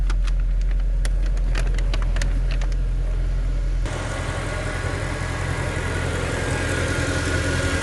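Mercedes-AMG CL63 6.3 engine idling after an oil and filter service and engine cleaning, a steady close rumble that shifts to a rougher, noisier tone partway through.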